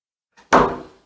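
A hotel room closet door swings open with a soft click followed by a brief wooden rattle and rumble, close and fairly loud, in a quiet room with no talking.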